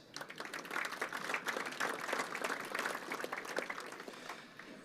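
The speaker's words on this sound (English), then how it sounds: "A big round of applause for EcoPest." A convention audience in a hall applauds a sponsor, a pest control company, with dense, sustained clapping from many hands that stays loud throughout and tapers only slightly at the end.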